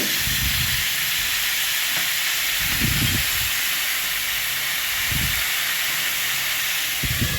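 Vegetables for Bengali shukto fry in a pan with a steady, loud hiss and sizzle, broken by a few low thumps of stirring or knocking.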